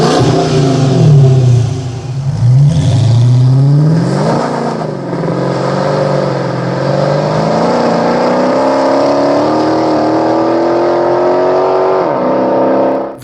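A Dodge Charger or Challenger with an aftermarket exhaust revs loud and close, with a few quick blips that then climb into a long sustained rev before it cuts off.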